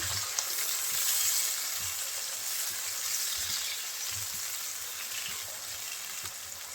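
Onion and whole garlic cloves fry lightly in a pan with a continuous close hiss, broken by soft, irregular knocks from stirring.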